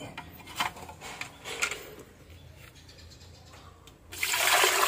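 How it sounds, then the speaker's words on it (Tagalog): Tap water poured into a blender jar during a leak test on a blender being repaired, a steady splashing rush that swells loud near the end after softer rubbing and handling sounds. "lagyan natin muna ito ng tubig"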